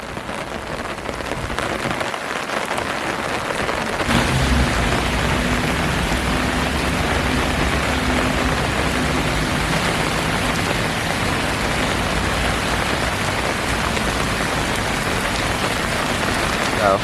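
Heavy rain pours down in Seoul, a dense, steady hiss of drops on surfaces that thickens after a few seconds and continues unbroken.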